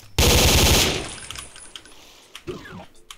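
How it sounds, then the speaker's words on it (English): A Tommy gun fires one loud, rapid burst in the 1920s-era video game Omertà, the rattle cutting off after under a second and leaving faint clatter and echoes. "But I'm so glad it was a Tommy gun."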